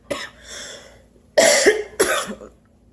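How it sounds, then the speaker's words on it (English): Two people in a kitchen making homemade macaroni and cheese break into harsh coughing, with a short cough, a pause, then two loud bursts close to the mic. "We both got coughing fits here today."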